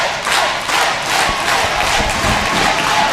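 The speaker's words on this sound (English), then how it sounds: "she's getting the crowd behind her now is Thunder Rosa" A professional wrestling crowd roars in support of a female wrestler during a match, a loud, continuous wall of cheering and shouting with thuds from the ring underneath.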